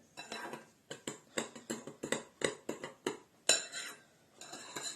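Beaten egg yolks with sugar and water being stirred in a bowl for a cake, a spoon or whisk clinking against the dish in a quick series of sharp taps, close and clear with no talk.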